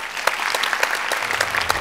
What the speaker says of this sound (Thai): ขอเสียงปรบมือให้กับครอบครัวศรีนรงค์กันก่อนครับ